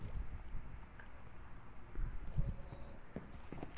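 Horse hooves clip-clopping in a farm video game, a steady run of soft, fairly close hoof knocks over a low ambient bed, with a few louder thuds partway through.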